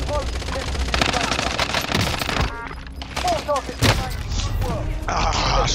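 Rapid automatic gunfire rattles in bursts in the video game Call of Duty: Warzone, loud and close, with breaks between volleys and a player talking over parts of it.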